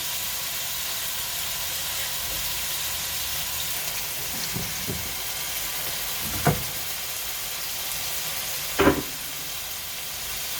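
Meat strips sizzling in a frying pan in a small home kitchen, a steady soft hiss with a few louder crackles and pops as pieces settle.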